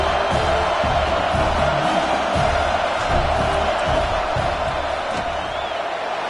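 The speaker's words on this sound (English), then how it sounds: "This crowd trying to do its part to get inside the kicker's head." A football stadium crowd roars steadily during a field goal attempt, a dense, loud wall of cheering and shouting with scattered whoops and no clear pauses.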